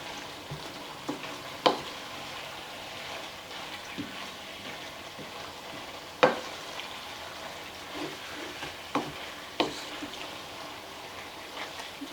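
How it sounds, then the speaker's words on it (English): A spoon stirs seasoned ground meat for chili in a pot, making irregular soft scrapes and a few sharper clicks against the pot over a quiet, steady background. "Okay, let me give this all a good stir."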